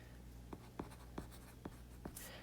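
A pen scratches across paper in five or six short, quiet strokes at a steady pace, close by in a quiet room.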